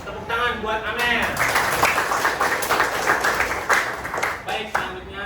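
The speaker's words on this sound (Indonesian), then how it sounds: "Ya, tepuk tangan buat Amer" Students in an Indonesian school religion lesson clap for a classmate, a short burst of scattered applause heard alongside a speaking voice.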